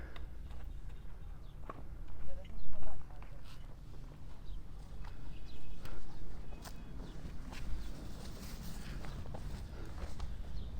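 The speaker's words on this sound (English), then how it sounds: "More horses coming" Horses on a street in Luxor, Egypt, clip-clop in scattered, irregular hoof clicks at moderate distance, mixed with street noise while someone talks.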